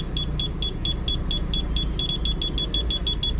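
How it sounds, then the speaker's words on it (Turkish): A Renault Master's parking sensor beeps while the van reverses toward an obstacle, a rapid, regular series of short electronic tones over a steady low engine rumble, with no talking. "park sensörümüz çalışıyor"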